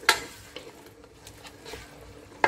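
Pork green curry with shrimp paste stirred in a pan, with soft scraping strokes and a quiet sizzle, bracketed by two sharp clinks of a utensil against the pan, close and with no talking.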